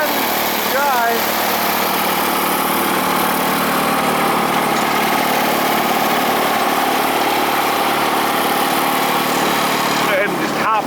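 A Bolens GroundsKeeper garden tractor runs steadily and loudly close by just after a cold start, with a continuous rough drone and brief voice sounds near the start and end.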